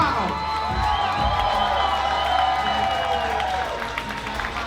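A crowd cheers and claps loudly for weight loss participants at a live celebration event, a broad sustained roar of voices and applause with shouts rising over it.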